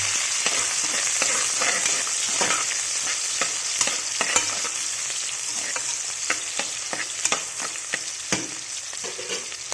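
Onions, green chillies and mint fry in hot oil with a steady bright sizzle, punctuated by repeated scraping stirs and spoon clicks, close up with no voices.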